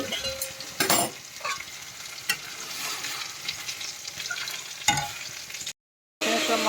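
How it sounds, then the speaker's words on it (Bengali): Thin masoor lentil dal is poured into a tempering of fried onions, giving a loud burst of sizzling followed by steady frying hiss and occasional scraping stirs. "ডালটা সম্বর দিয়ে দেবো।"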